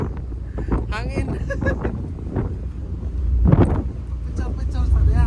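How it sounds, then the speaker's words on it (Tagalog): Wind blowing outdoors, a steady low rumble and microphone buffeting that swells louder near the middle and end, heard under people talking and laughing. "Hangin."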